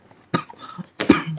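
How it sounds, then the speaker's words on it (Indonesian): A single person coughs twice at close range, two short harsh bursts separated by a brief pause, in a quiet indoor room. "Mohon maaf saya sedikit batuk."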